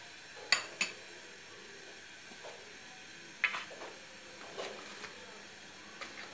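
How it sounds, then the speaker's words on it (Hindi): Boiled macaroni is stirred in a pot with a spoon, giving a few sharp metallic clinks against the rim and soft scraping swishes, spaced out over a quiet background hiss. "और इसको आपने अच्छे से हिला देना है"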